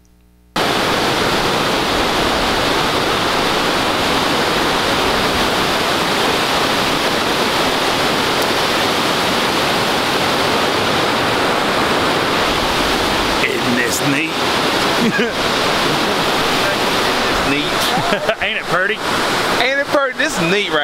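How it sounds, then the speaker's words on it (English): Rough rapids of a creek waterfall at Muddy Creek Falls roar as a loud, steady broadband rush close by, continuous for the whole stretch, with some handling bumps near the end. "It's a little bit of rough rapids."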